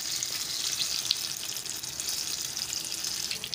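Mixed vegetable pakoras fry in hot oil, a dense continuous bubbling sizzle with fine crackles, close and steady throughout with no talking.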